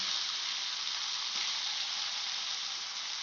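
Chicken with spices sautés in a pan on a gas stove over low to medium flame, giving a soft, even, hissing sizzle throughout with no talking.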